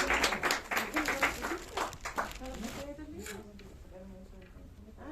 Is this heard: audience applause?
yes